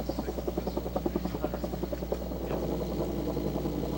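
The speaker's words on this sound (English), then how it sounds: "The chopper methodically roamed the border, picking out targets, launching," Military helicopter patrolling along a border during an offensive, its rotor beating in a steady rapid chop that then blurs into a continuous engine drone, moderately loud and with no one speaking.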